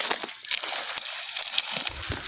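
Dry grass and twigs crackle and snap underfoot in an orchard during fruit-tree pruning, a close, busy run of crisp crunches and brittle breaks lasting a couple of seconds with no talk.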